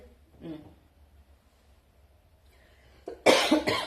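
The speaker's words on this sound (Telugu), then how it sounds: "దగ్గు తగ్గల" A sharp, harsh cough bursts out near the end after a quiet stretch with a brief murmur, close and loud.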